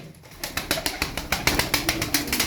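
Turkish show tumbler pigeons, brooding birds kept together, give a close, steady series of rhythmic cooing pulses, roughly four per second, with no voices over them.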